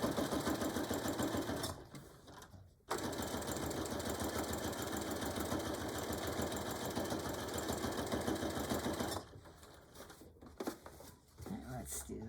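A sewing machine stitches a beach or diaper bag outdoors, running in long steady bursts with a brief pause near three seconds and stopping around nine seconds, followed by softer handling noises.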